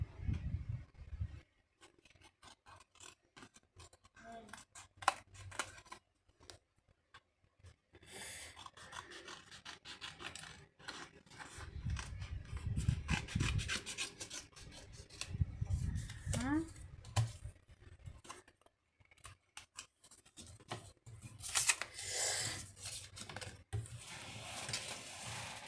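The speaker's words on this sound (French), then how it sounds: "Donc là, je vais tout découper." Paper crafts being cut out with scissors: a close stream of snipping, rubbing and rustling with several pauses, quiet throughout, sometimes under a soft voice.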